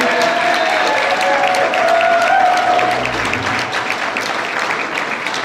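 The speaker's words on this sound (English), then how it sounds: "Big round of applause, everybody." A ballroom audience at a coronation ball gives a big round of applause as the candidates re-enter, a dense, loud, continuous wash of clapping with some crowd noise and a voice briefly over it.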